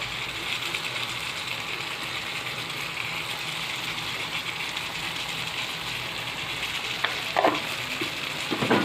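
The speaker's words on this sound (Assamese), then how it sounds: "নিমখখিনি দিয়াৰ পিছত এতিয়া লৰাই দিব।" Pork curry fries in a pan and is stirred after salt goes in, giving a continuous close sizzle with soft scraping, joined by a few sharper clicks near the end.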